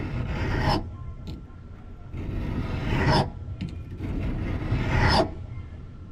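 A WRD winged trimming blade is drawn across a sharpening stone in three long, rhythmic rasping strokes, each a sustained gritty scrape with brief quiet pauses between, close and clear with no talking.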